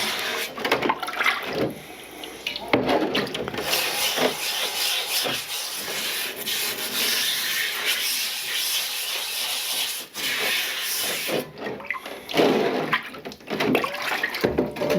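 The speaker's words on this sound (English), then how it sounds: "scrub to get rid of the surface rust" A scrubber works surface rust off a wet cast iron BSR skillet with water, a loud, continuous rubbing and rasping at close range that keeps going in uneven strokes without speech.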